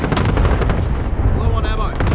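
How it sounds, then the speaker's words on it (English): Cluster strike explosions in Call of Duty Modern Warfare (2019) multiplayer, a rapid run of heavy booming blasts and rumbling impacts, loud and close, ending with scattered debris and gunfire. "Enemy cluster strike incoming, take cover!"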